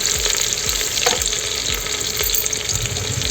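Mutton sizzles and fries in a pan over a wood fire, a dense steady crackle with soft stirring scrapes and occasional low knocks, heard up close with no talking.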